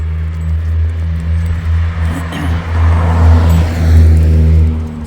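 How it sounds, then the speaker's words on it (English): A car passes by on a road outside, a steady low engine rumble that swells slightly as it nears. It is fairly loud and constant, with no voices. "So there's another car coming."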